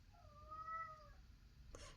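A cat gives a single faint meow lasting about a second over a steady low room hum, followed by a brief soft rustle.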